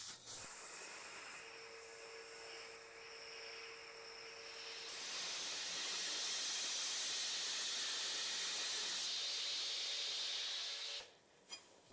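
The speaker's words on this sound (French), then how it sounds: "Meuler ceci est bien plus difficile qu'un couteau de chef à cause de sa largeur et de sa longueur." A San-Mai damascus steel kukri blade made of 1084 and 1520 steel is ground on an abrasive machine. It makes a continuous harsh hiss that swells louder midway, holds for several seconds and then cuts off abruptly.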